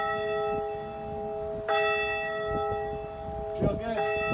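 School bells ring out in a sustained, sharply pitched metallic tone with several clangs, fairly close, while people move and talk briefly in the background.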